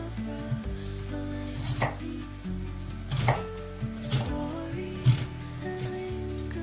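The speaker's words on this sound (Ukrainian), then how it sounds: "Це Цю я буду більше ножом різати, бо це маленький" An onion cut with a knife, a handful of distinct, irregularly spaced chops, close and crisp, over a low steady tonal background.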